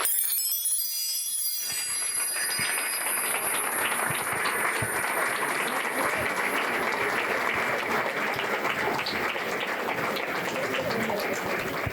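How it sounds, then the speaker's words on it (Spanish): An audience applauds after a talk on digital schooling, a full, steady burst of clapping that starts abruptly and holds at an even level from start to finish. "Merece un aplauso más fuerte"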